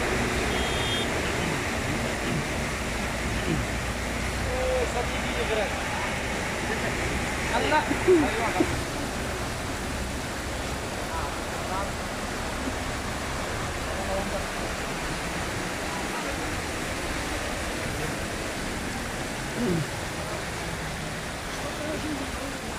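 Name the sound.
heavy rain floodwater flowing on road in Makkah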